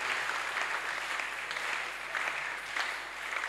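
Congregation in a French-speaking church service clapping together in sustained, dense applause that swells and dips in waves, filling the room at steady loudness for the whole stretch.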